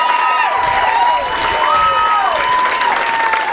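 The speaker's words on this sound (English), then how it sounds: "as you hear the crowd" A large stadium crowd at a Babe Ruth World Series opening ceremony cheers and applauds the host team, a loud sustained roar with whistles, heard close around the listener.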